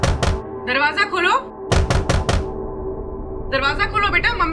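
Several hard knocks on a wooden door, a quick burst of thuds near the start and another cluster of three or four a moment later, with a woman calling out between and after them.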